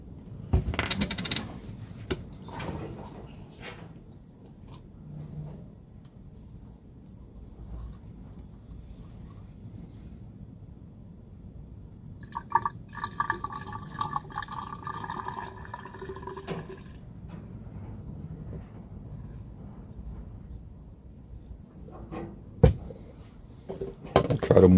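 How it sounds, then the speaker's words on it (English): Cleaning solution splashes and trickles into a metal Dead Air Sandman S suppressor, with small clinks and drips, a few brief bursts of pouring separated by quieter handling. "And I'll pour the solution inside the suppressor only."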